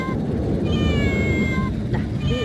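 A cat meows repeatedly, drawn-out and insistent cries up close over a steady low background rumble.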